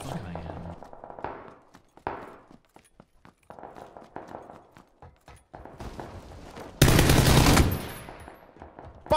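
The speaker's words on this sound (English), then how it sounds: "I was getting shot as I was running" Gunfire in PUBG: scattered sharp shots through the first seconds beneath game sounds, then a dense, loud burst of automatic fire near the end, with no one talking over it.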